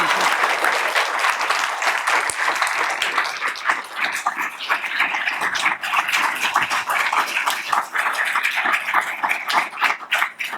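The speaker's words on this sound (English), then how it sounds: "maybe we should give her another round of applause." Enthusiastic applause from an audience, dense continuous clapping throughout, with a few faint vocal sounds mixed in.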